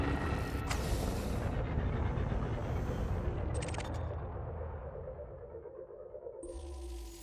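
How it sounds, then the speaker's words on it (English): A limpet drone fires toward an asteroid in a space video game, a sharp whooshing launch burst over a steady low rumble of ship ambience, with another swell of launch noise near the end. "Let's fire a limpet and see what's inside this asteroid."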